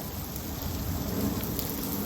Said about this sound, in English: Just look at the rain.